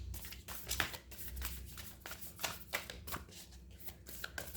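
A deck of tarot cards is shuffled close up, a run of quick riffling bursts and soft papery slaps repeating in an uneven rhythm, with no voice over it.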